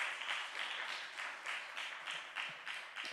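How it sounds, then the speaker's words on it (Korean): A church congregation at a Sunday young-adults worship service claps for a preacher, faint and distant, the clapping swelling in soft rhythmic pulses. "박수를 드릴까요?"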